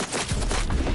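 Rapid tech pistol fire in the Cyberpunk video game, a loud, dense, continuous barrage of shots packed tightly together for a full second with no gaps.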